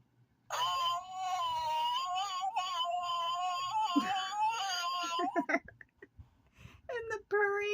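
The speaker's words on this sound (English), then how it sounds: "cat fight," A toy noise maker plays a loud, sustained yowling cat fight, wailing for several seconds before breaking into choppy squalls and a final drawn-out yowl.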